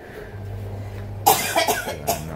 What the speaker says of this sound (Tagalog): Kaya naubo-ubo si mama po mga kalingap.